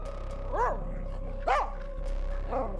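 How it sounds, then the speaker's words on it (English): Dogs from a small pack in a video game bark in three short, separate yips against a steady low hum, fairly faint and spaced about a second apart. "A small pack of dogs rounds the corner."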